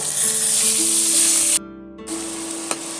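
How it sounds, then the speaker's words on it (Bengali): Onion paste made from three ground onions hisses into hot oil in a pan for an egg curry, a steady close sizzle that breaks off briefly, then resumes more softly with a faint tonal hum underneath. "পেঁয়াজটা আমি বেটে নিয়েছি সেটা আমি তেলের মধ্যে অ্যাড করে দেব"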